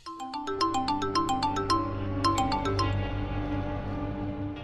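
A phone ringtone plays a repeating melodic chime pattern, clear and fairly loud, with no talking.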